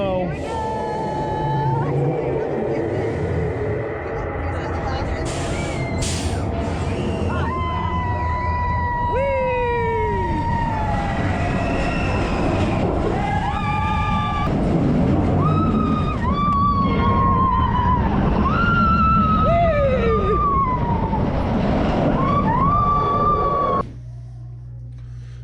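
A roller coaster ride on Expedition Everest at Animal Kingdom, with a steady rushing roar of the train throughout and riders screaming and whooping in rising and falling wails over it, until the noise drops away at the end.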